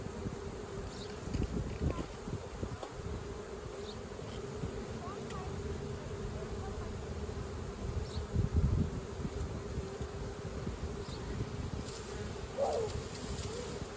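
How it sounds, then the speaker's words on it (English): A honeybee swarm hanging from a tree branch makes a continuous close buzzing drone, with individual bees passing nearby and faint low voices in the background. "You're probably going to get another swarm this season in that branch because it smells like bees."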